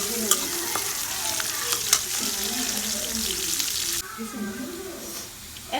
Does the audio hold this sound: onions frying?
yes